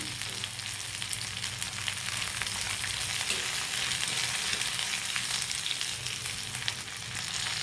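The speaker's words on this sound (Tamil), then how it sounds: "தேங்காயும் நல்லா வதங்கட்டும்." Grated coconut sautés in a pan for ridge gourd chutney, giving a steady, even sizzle with a soft crackle that holds at the same close level throughout, with no voices.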